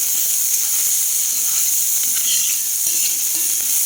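Onion, ginger and garlic fry together in hot oil, giving a loud, steady, bright sizzle that holds unbroken throughout.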